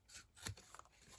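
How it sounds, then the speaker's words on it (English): Scissors cutting diagonally through paper for a handmade December journal, one quiet snip and rustle with a sharper crisp cut near the middle, close and faint. "So then we'll just cut diagonally"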